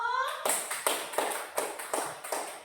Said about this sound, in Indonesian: kasih tepuk tangan buat kelompok 1